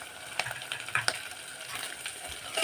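Field beans (avarekalu) fry in a pan for upma, a steady soft sizzle with a few sharp pops and crackles over a short stretch, no voices.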